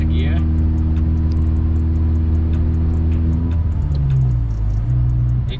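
A 10th-gen Honda Civic Si fitted with an Acuity fully adjustable short shifter drones loudly at steady revs, then the engine note drops as it shifts from fourth into fifth and settles lower.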